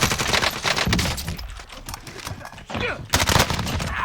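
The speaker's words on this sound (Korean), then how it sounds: "앞에 총 쏜다." Rapid automatic gunfire in a Call of Duty: Warzone squad match, loud bursts of shots that thin out in the middle of the clip and then return heavily near the end.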